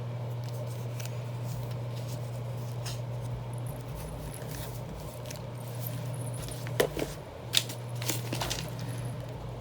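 Scissors cut a small paper botanical sample tag in a quiet room, with a few short, crisp snips near the end over a steady low electrical hum.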